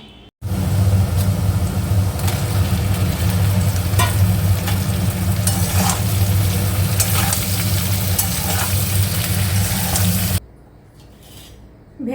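Okra and potatoes fry in a pan, a loud continuous sizzle close by with a low hum underneath, cutting off abruptly near the end; no talk.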